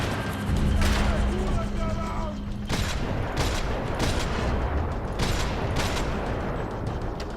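Rapid bursts of gunfire and loud booms from the video game Max Payne 3, with repeated broadband shots through a dense, continuous action soundscape; in-game voices shout over the shooting.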